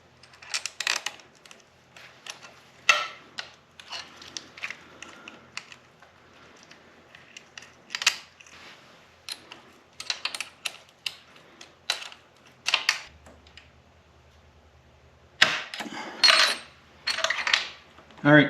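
An 8mm bolt is threaded and tightened into a motorcycle foot peg mount on a Kawasaki WR250R, giving close, sharp metallic clicks and scrapes in irregular bursts separated by quiet gaps.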